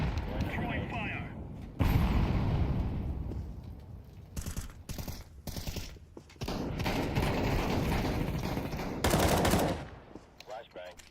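Grenade and fire being thrown in a video game, a loud chaotic mix of gunfire, bursts and blasts that repeatedly starts and cuts off, with speech over parts of it.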